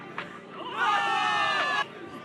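Crowd cheering for victory in the Zenless Zone Zero video game, a swelling burst of many voices that rises, holds loud for about a second, then cuts off sharply.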